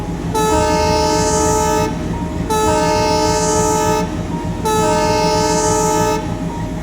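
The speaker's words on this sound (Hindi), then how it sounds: "इसे बताने के लिए 3 लंबी सीटियां बजाई जाती है।" Three long, loud railway train horn blasts, each lasting about a second and a half with short gaps between, sounding the signal that a train is not standing clear inside the station's fouling mark.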